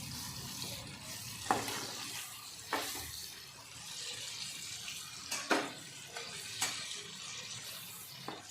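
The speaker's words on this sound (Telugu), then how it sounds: "సేమ్ ఇది కూడా ఇలా బ్రౌన్ కలర్లోకి వచ్చేదాకా ఫ్రై చేయాలి" Chicken pieces frying in a pan for chicken pickle, a steady sizzle with sharp scrapes and clatters of stirring at irregular intervals, fairly close, with no talking.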